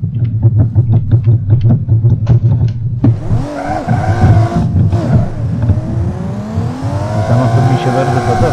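An electric bus in BeamNG.drive braking hard from 340 km/h, with a steady roaring drone and tire noise that shift into a long, loud skidding screech, under talk.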